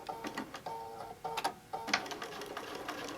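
A sewing machine stitches a quilted tote bag up close, sounding as short bursts of fast mechanical whirring and clicking with brief stops between runs, no voices.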